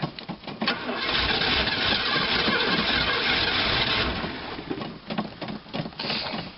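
A 1984 Oldsmobile Delta 88 running rich after three years in storage, its engine catching and holding a loud, rough, steady run close by, with a few uneven surges near the end.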